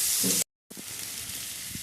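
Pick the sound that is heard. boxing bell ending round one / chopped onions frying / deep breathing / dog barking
chopped onions frying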